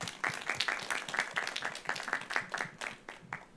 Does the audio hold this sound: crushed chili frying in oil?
no